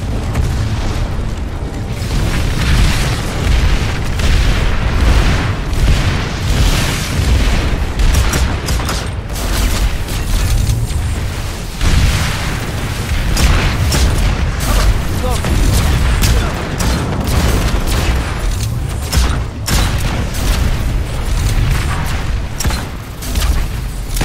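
Tank rockets and gunfire in the Planetside 2 shooter keep up a dense, loud barrage of booms and bursts without a break, with a voice faint underneath.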